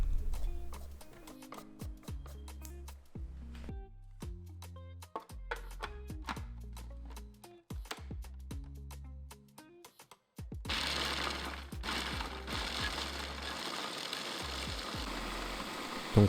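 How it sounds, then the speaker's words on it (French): A blender grinds hazelnuts and icing sugar into a smooth paste, a dense whirring roar that starts partway through and runs steadily under louder background music. "dans mon mixeur, j'ai versé mes noisettes ainsi que mon sucre glace et je vais mixer le tout jusqu'à obtenir une pâte bien lisse"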